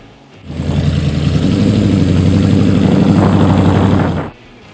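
A drag racing engine starts up loud and close, holding a steady, rumbling roar for about four seconds before it cuts off abruptly.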